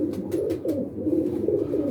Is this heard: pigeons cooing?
yes